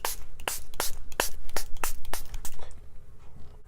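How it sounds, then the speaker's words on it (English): Clean Color Pro Prep and Prime makeup primer spray misted from a distance in a run of about eight quick, sharp pump bursts, evenly spaced and fairly loud, then fading into quiet room tone. "So I'm just gonna spray this from afar"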